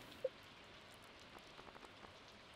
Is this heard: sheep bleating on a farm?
no